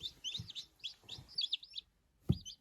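Tiny newly hatched incubator chicks peep in a quick run of high, thin chirps, close by and fairly quiet, ending with a soft low thump.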